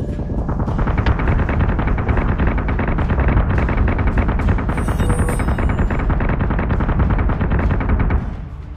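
Rapid, relentless gunfire in the space battle game Battlestar Galactica Deadlock hammers on as a fighter squadron comes under fire, a loud, dense rattle of bursts that stops abruptly near the end.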